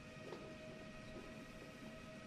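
A high-speed train runs steadily in the video game Transport Fever, a faint continuous rolling rumble with a thin steady tone and a few soft clacks, no voices present.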